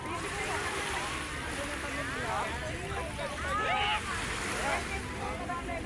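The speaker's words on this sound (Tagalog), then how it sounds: "Pero hindi naman masyadong malakas yung alon, ano?" Sea waves at Manila Bay wash steadily against the shore with constant wind rush and a broad surf roar, and voices can be heard faintly beneath it.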